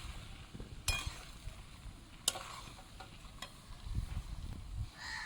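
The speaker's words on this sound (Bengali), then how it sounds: "আর দিয়ে দেবো মাছ। এটা 2-4 মিনিট কষে নিই।" Fish sautéing in a pan for a Bengali taro and mustard fish curry, heard as a faint, low sizzle broken by a few sharp clinks of a spatula against the pan.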